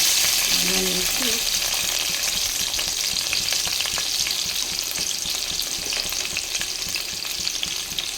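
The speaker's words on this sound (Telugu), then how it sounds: "ఆయిల్ హీట్ అయ్యాక ముందుగా చెక్క అండ్ లవంగ, ఇలాచి కొంచెం ఇలా ఇది చేసుకొనేసేయండి. తర్వాత ఆనియన్ వేసి" Onion fries in hot oil with cinnamon, cloves and cardamom, making a loud, continuous sizzle with faint stirring scrapes throughout and no one talking.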